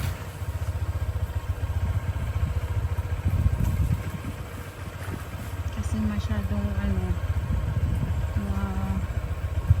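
A motorcycle engine running steadily on a steep descent after the brakes failed from overheating, a near, even chug under voices talking over it.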